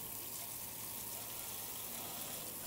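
Water spraying steadily to rinse a car wheel and tires after a wheel cleaner, a continuous broadband hiss and gush at a fairly faint, even level with no pauses.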